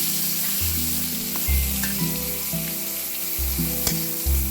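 Eggplant slices sizzling and frying in a pan, a steady bright crackle with a low hum and occasional clinks of a utensil, close and alone without any talk.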